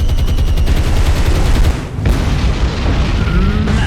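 A bomb explodes in the naval combat game War on the Sea amid heavy anti-aircraft fire, a loud sustained rumbling boom with crackling gunfire continuing throughout.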